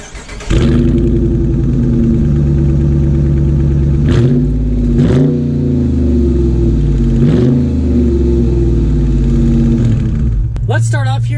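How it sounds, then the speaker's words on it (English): A 2019 Dodge Charger R/T drives and accelerates, its engine droning loud and close, with the pitch dropping back and climbing again at several gear changes. "let's take the 2019 Charger out to see how it drives"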